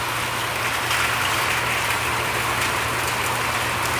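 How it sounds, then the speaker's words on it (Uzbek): Rain falling in a steady, dense hiss that stays constant and fairly close, with a low hum underneath. "Yomg'ir yog'yapti"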